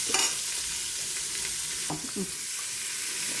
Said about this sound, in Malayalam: ബ്രൗൺ കളറാവുന്നിടം വരെ നമുക്ക് വഴറ്റിക്കൊടുക്കാം, ഇളക്കിക്കൊണ്ടിരിക്കാം.